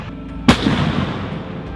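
An M109 self-propelled howitzer fires its 39-caliber 155mm M284 cannon once. A single sharp, loud blast is followed by a rumbling decay that fades over about a second.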